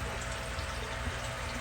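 Water pours steadily and close by as fish tank water is changed, a continuous splashing wash with no pauses.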